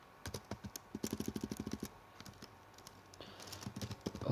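Someone types a command on a computer keyboard at a Linux terminal, a quiet burst of quick, even keystrokes followed by a few scattered key taps, with no voices.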